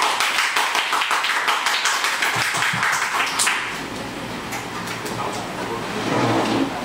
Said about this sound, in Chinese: 好，那我们就一起用掌声先欢迎洪任老师